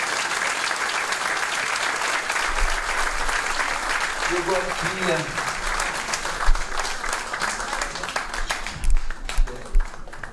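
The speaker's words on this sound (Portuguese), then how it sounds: "Uma grande salva de palmas para o que quiser" A crowd applauds at a live music revue in Peniche, dense clapping throughout, while a voice speaks over it near the end with a few louder thumps.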